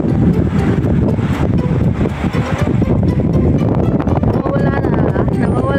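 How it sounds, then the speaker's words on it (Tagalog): Strong night wind buffets an open microphone outdoors near an airport in Taiwan during the Moon Festival, a loud, continuous broadband roar with gusty rumble that stays steady throughout. "Grabe ang lakas ng hangin."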